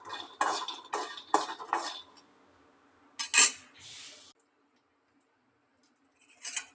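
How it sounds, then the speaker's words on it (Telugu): Peanuts are dry-roasted in a pan, with a few quick bursts of rattling and clinking as they are stirred and shaken. Near-silent pauses fall between the bursts. "శనక్కాయలు విత్తనాలు వేయించుకుంటున్నానండి"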